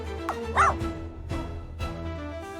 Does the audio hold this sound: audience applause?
no